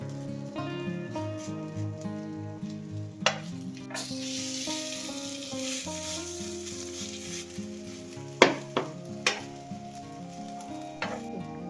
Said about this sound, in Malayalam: നമ്മൾ മിക്സാക്കി വെച്ച് നേരെ അതിലോട്ട് വെച്ച് കൊടുക്കാം കേട്ടോ.